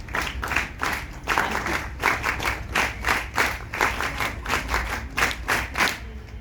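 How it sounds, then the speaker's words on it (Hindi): Sustained applause from a large audience at a formal gathering, with steady overlapping handclaps that are loud and close and continue without break, with no voices on top. "जो आपका ताली बजाने का तरीका ये मुझे बहुत पसंद आया"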